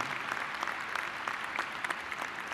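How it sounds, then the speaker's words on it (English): Steady applause from an audience at a university winter commencement ceremony, dense overlapping claps continuing at an even level throughout without any voices. "please give them a round of applause"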